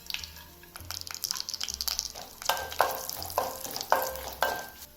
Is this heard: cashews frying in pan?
yes